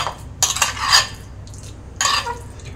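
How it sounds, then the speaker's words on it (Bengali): A spoon scraping and clinking against a bowl while paneer paturi filling is mixed with mustard oil, a few short close bursts of stirring with quiet gaps between. "সর্ষের তেল আমি আবারও একটু মেখে নেব"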